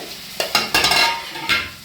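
Eggplant and potato sizzle in a pan as a utensil stirs them, with a few scraping strokes over a short stretch, on low heat.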